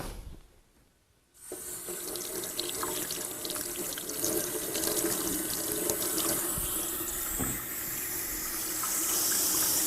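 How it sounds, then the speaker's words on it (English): Tap water runs steadily into a kitchen sink while fresh radishes are rinsed, a continuous close splashing gush that starts after a brief quiet moment and keeps on with small shifts as the radishes move under the stream. "I'm going to pull them off here and give them a quick rinse."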